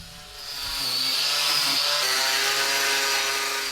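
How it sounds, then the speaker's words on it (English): An angle grinder fitted with a wire cup wheel scours rust and grime off old metal vice parts outdoors, a loud, steady high whine that spins up and holds. "I'm going to use this wire cup wheel, get that put in the angle grinder"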